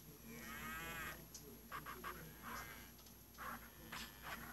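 Cow in the video game SurvivalCraft lets out a long moo, followed by a few shorter lowing calls, all faint and distant in a dark game scene.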